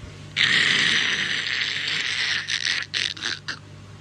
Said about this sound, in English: the pump will start sucking air